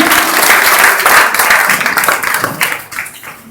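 Loud, close clapping from a crowd at a Dr. Ambedkar Jayanti celebration in Kailash Nagar, Ghaziabad, applauding a child, dense at first and thinning out toward the end.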